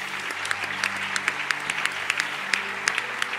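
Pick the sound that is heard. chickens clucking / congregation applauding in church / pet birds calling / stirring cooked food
congregation applauding in church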